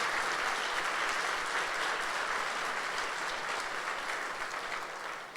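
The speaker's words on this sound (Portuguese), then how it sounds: "Então dá um aplauso a Jesus," Sustained applause from a church congregation at a Sunday service, a dense even wash of clapping that holds steady for several seconds before tapering off slightly at the end.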